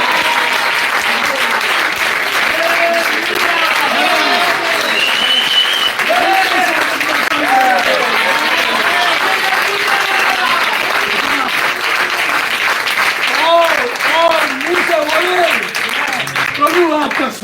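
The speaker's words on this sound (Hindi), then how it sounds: "आइए इनके स्वागत में ताली बजाएं।" An audience in a church applauds in welcome, sustained dense clapping with voices calling out over it throughout.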